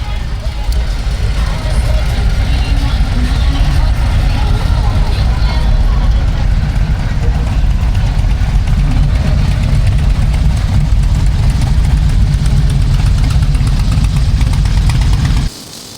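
Several Indian and Harley-Davidson motorcycles idle together before a group ride from Virginia Beach toward Cape Hatteras, a steady low rumbling drone held at a constant level, with a voice talking over the engines until the sound cuts off at the end.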